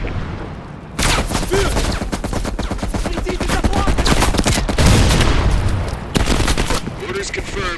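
Sustained automatic machine gun fire in Call of Duty: Black Ops Cold War, a loud rapid stream of shots starting abruptly after a brief quiet moment and continuing with dense battle noise, with voices talking over it.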